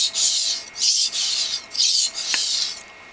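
A knife edge is ground to cut a new bevel while repairing a chip: close, rasping strokes repeat in a steady back-and-forth rhythm, about five passes, with no talking.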